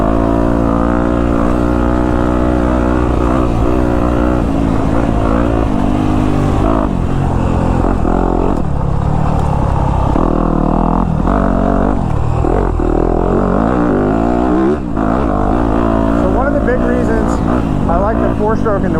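A four-stroke dirt bike engine burbles loudly and continuously while riding through the woods, its pitch rising and falling with throttle changes, as the rider talks over it throughout.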